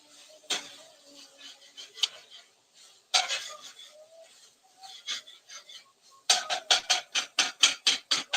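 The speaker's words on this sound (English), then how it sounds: "Sauteing up." Butter sizzling in a pan as food sautés, with a run of close, sharp metallic scrapes and clinks from stirring, sparse at first and then a quick regular burst near the end.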